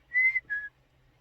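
A high, clear sheepdog whistle sounds the left-turn command in two blasts: a longer steady note followed by a shorter one, close and fairly loud against a quiet background.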